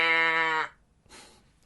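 A loud, sustained moo-like animal call with a strong harmonic buzz, used as a transition sound effect, lasting over half a second before cutting off, followed by a brief faint hiss.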